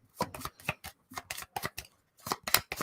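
Cards from the Forbidden Island board game are shuffled during a tabletop game night: a string of quick, close papery flutters and snaps in uneven bursts with short pauses between.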